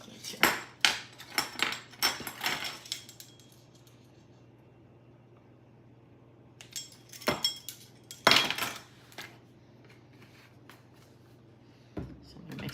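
A spoon clinks and scrapes against a bowl while vanilla is mixed into cheesecake filling, in two bursts of brisk, close clatter with a quiet pause between them.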